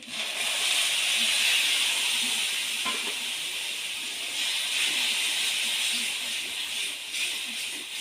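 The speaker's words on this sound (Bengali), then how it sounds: "অল্প পরিমাণে জল দিয়ে কষিয়ে নেব" Spices sizzle in hot oil with a splash of water while an egg curry with pointed gourd cooks. A steady, bright frying hiss runs throughout, with faint stirring clicks underneath.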